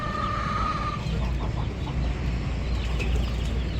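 Rooster and hens clucking among a home flock, a steady busy murmur of fowl sounds with one longer call near the start, continuous and fairly close.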